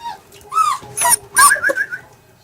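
German Shepherd puppies whimper, yip and growl up close, a few loud overlapping cries in quick succession with no talking.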